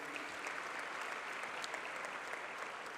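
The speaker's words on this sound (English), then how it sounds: "A round of applause for him as well." Conference audience of CA students applauding in a large hall, a steady, even wash of many hands clapping at moderate distance for the whole three seconds.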